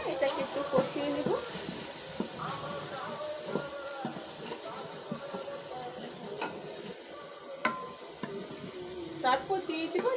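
A home-style special spice mix for chicken biryani stir-fries in a pan, a low sizzle running under repeated spoon scrapes and metallic clinks, with a voice faintly present in the background.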